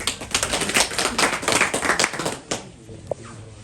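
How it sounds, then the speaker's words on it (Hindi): An audience at a political party joining event claps vigorously, a dense burst of many hands that fades out after a few seconds. "जोरदार तालियों के साथ"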